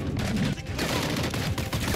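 Rifle shots in a first-person shooter video game, a quick run of sharp reports over about two seconds, fairly loud against background game noise.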